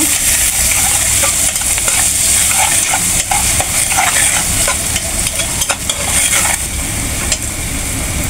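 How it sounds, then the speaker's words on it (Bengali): Turmeric and salt sautéed in a pan for a shapla (water lily stem) curry, a steady close sizzle of frying with repeated scraping and stirring strokes running throughout. "2 চামচ হলুদ, স্বাদ মতন লবণ, ভালো করে কষায় নেব।"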